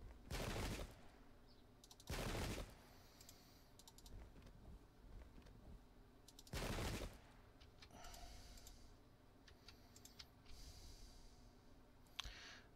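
Musket volleys crack out in the Pike and Shot video game during a fortress assault, several broad bursts spaced a few seconds apart, followed by scattered lighter pops and clicks at moderate distance.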